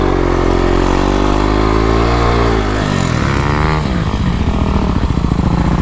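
A 35 hp Kawasaki KLX351 dirt bike climbing sand dunes, its engine loud and near, revving hard with rising pitch, then a sharp throttle change and a rough, choppy roar as it powers up the slope.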